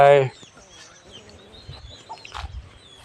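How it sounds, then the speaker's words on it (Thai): Chickens and chicks at a temple in Chae Hom, Lampang: a loud cluck opens, followed by soft scattered peeps and scratching sounds nearby. "ไก่เจี๊ยบไก่น้อย ไก่น้อยไก่เจี๊ยบอยู่กันตรงนี้"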